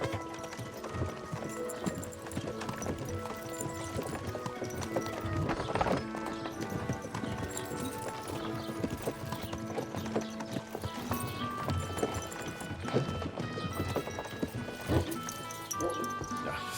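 Horse hooves clip-clop steadily through a Kingdom Come Deliverance II game scene, mixed with music and ambient layers, with occasional neighs and brief talk.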